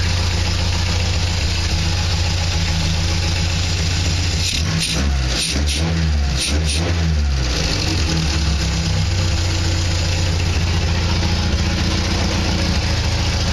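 A 1960 Triumph TR3A engine idles with an unfastened, barely clamped race car exhaust, giving a loud, steady, throbbing rumble that runs continuously with a brief burst of uneven knocking partway through.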